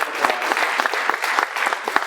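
Applause from an audience at a community mentoring program event, honoring its volunteer mentors: dense, steady clapping from a crowd indoors, sustained throughout without any talking.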